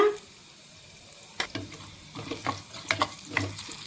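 Grated ginger dropped into hot oil in a pan while making a carom-leaf yogurt chutney, giving soft crackling sizzle and scattered stirring clicks that grow busier after a quiet start, with no talk.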